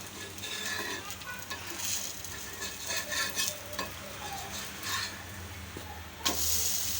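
A ragi and urad dal dosa fries in oil on a pan, giving a steady close sizzle and crackle throughout, with a brief scrape near the end.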